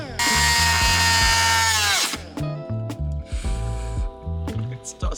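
A power tool cuts into the body panel of a Tesla Model 3 during a widebody build. A loud, high whine runs for about two seconds, then comes in shorter bursts over a rhythmic backing track.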